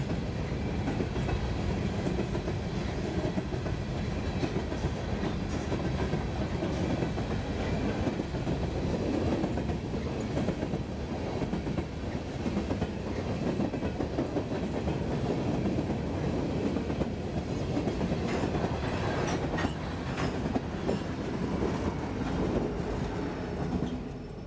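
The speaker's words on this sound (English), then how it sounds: "the vast majority of traffic being coal trains like this" Long BNSF coal train rolling through on the Fort Scott subdivision, a sustained heavy rumble with steady clickety-clack of wheels and occasional faint squeal, continuing without voices.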